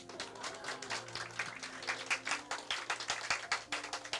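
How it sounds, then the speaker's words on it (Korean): Church congregation clapping during a Friday worship service testimony, a moderate round of applause from a crowd with an even, busy rhythm and no talk over it. "박수 치세요."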